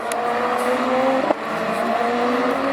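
A rallycross race car at a round of the 2013 French championship at Lessay roars past with a sustained engine drone, loud and close, with a brief sharp transient midway.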